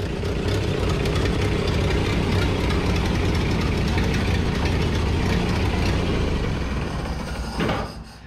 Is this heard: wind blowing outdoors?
no